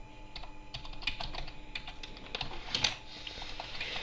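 A computer keyboard clicks out a world name in Minecraft, with irregular quick keystrokes close and fairly quiet, running for a few seconds with no voices.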